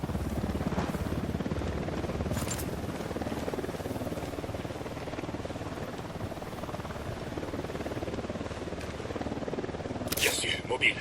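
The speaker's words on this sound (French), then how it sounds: "Hélico de l'Unidad en approche." In the Ghost Recon Wildlands video game, an enemy Unidad helicopter approaches with a continuous rotor drone and rumble that stays under overlapping game dialogue throughout, with brief sharp clicks along the way.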